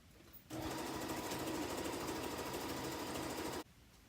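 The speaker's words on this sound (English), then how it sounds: "line up those fabrics to make sure that they're in there, right? And then sew it straight down again." A domestic sewing machine stitches strips of quilting fabric for a Christmas stocking in one continuous, loud, even mechanical whir of about three seconds, starting and stopping abruptly, close by with no talking.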